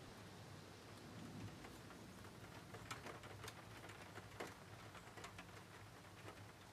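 Rain patters against a window pane at night, a soft continuous wash with scattered brighter drop ticks and a low distant rumble, calm and unbroken.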